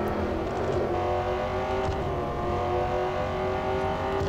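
Jaguar F-Type SVR engine in the racing game Real Racing 3, a continuous loud revving drone with steady tonal harmonics and slight rises in pitch, heard alone without talk.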